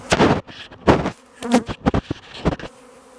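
A honeybee swarm arriving at a nuc hive, its buzzing rising and falling in irregular close swells with brief lulls between bursts.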